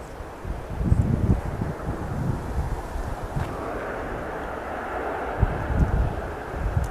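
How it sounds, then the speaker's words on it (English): A Ryanair plane taking off at Manchester Airport, a broad low jet roar rumbling steadily at a distance, mixed with gusty wind buffeting the microphone. "A second Ryanair heading off."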